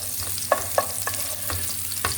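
Onions fry in a pan for a simple sausage-and-rice meal, with a steady soft sizzle broken by a few sharp spatula clacks and scrapes, close and moderately loud.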